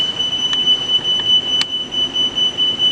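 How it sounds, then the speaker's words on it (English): An emergency stop alarm buzzer on a machine sounds as a steady, piercing electronic tone held continuously over a low hum of background noise, with brief clicks along the way. "push the e-stop, the alarm buzzer goes off"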